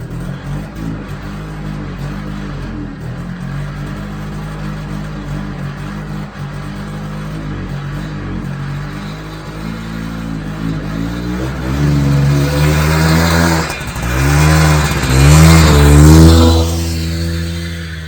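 An old car engine in snow idles steadily and then revs up hard in several loud, surging bursts toward the end, close by with no talk.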